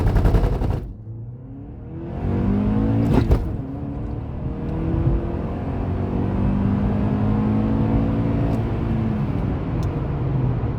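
A 2006 Honda Accord 2.0 i-VTEC launches hard toward 100 km/h, a short mechanical clatter giving way to a rising, sustained engine drone that climbs through the gears, loud and close throughout.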